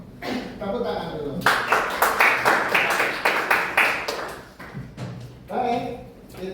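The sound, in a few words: students clapping hands in classroom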